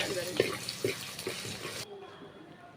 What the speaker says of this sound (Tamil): புளி தண்ணியை ஆட் பண்ணிக்கணும்